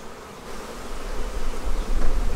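Honeybees buzzing loudly around an open hive during a beekeeper's inspection, a dense steady drone that swells louder toward the end, close to the microphone with no talking.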